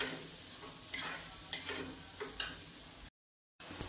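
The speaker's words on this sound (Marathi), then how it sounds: "आता हे छान असं परतून घ्यायचं आपल्याला, कारण मसाला थोडासा कच्चा आहे" Ground masala paste sautéed in a pan over low heat, a soft continuous sizzle broken by a few sharp scraping stirs, faint and close, with a brief gap of silence near the end.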